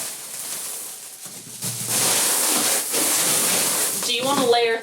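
Potting mix poured into a plant pot during repotting, a dry rushing hiss that swells and holds, with a brief voice-like sound near the end.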